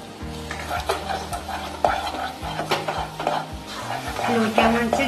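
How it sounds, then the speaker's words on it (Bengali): Bombay duck fish, stirred while it fries and dries in a pan, produces a close sizzle punctuated by repeated scraping and clattering strokes of a utensil against metal, with a low hum underneath. "মাছটা আমি এইভাবে নাড়তে থাকবো যতক্ষণ না শুকনো হচ্ছে।"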